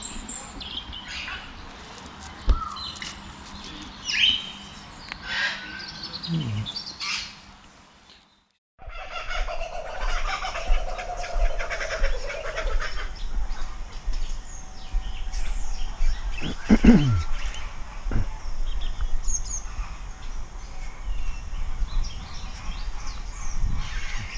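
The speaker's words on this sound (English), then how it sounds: "It's a kookaburra. That's what's making that noise, the kookaburra." A kookaburra calls outdoors in a chattering, rising and falling burst over steady ambient noise, with other birds chirping faintly around it.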